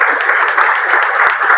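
Congregation clapping during a Sunday church service, a loud, close and steady wash of many hands with faint thumps underneath, sustained without pause.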